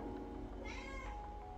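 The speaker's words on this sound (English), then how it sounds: "That's just our cat Storm being a little shit." A house cat meows in a kitchen during baking, a single drawn-out cry rising over steady background hum, fairly close and alone without talk.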